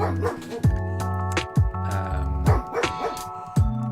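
A dog indoors barks repeatedly in short, loud bursts with deep harmonic tones, about six barks spaced unevenly, close by with some whining in between.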